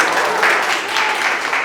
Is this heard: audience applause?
yes